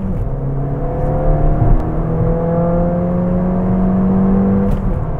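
A Ford Fiesta ST MK7 fitted with an induction kit pulls hard, its engine note rising through the revs then dropping as it shifts from third to fourth, heard steadily from inside the car with no talking.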